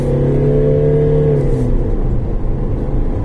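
Mercedes GLA engine droning loudly while driving, a steady close cabin hum with tonal notes that fall away as the engine settles into a rough rumble.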